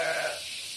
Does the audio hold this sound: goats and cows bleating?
yes